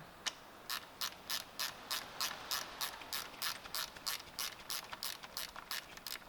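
A socket wrench ratchets in a quick series of crisp clicking bursts, about fifteen even strokes, while loosening an alternator bolt on a 2018 Lincoln MKC 2.0L turbocharged four-cylinder; close and alone.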